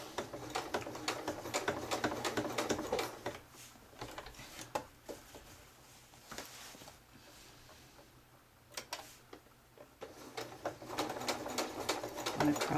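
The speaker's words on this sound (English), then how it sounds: "I'm just top stitching this down" A sewing machine top stitches close to the edge of a fully zipped, lined quilted tote, running in steady rapid ticking bursts that pause briefly midway, then resume at close range.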